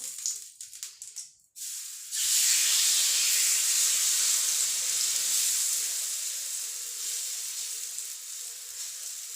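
Potato and onion batter hits a hot tawa greased with ghee: a few clattery knocks, then a sudden loud, close, sustained hissing sizzle that slowly eases but keeps going without voices.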